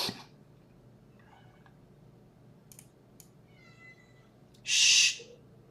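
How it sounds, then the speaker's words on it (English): An indoor cat makes a few faint, soft sounds and then one short, loud meow near the end, over a quiet room. "Shh, stupid cat."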